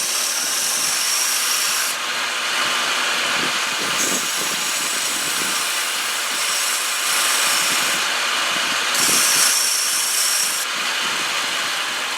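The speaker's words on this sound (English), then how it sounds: "Now it's down far enough I can probably sand it off the rest of the way." Wooden pen blank being sanded into a whistle, a continuous harsh rasping hiss of abrasive on wood with a motor running underneath, rising and falling in intensity as the pressure changes.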